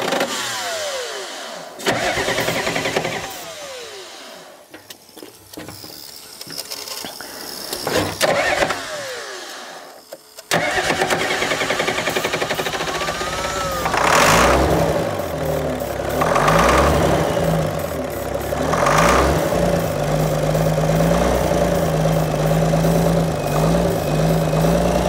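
An old diesel excavator engine pulled from a swamp cranks with a few clattering start attempts, then catches and runs with a loud, uneven rumbling idle, revving in surges, close by.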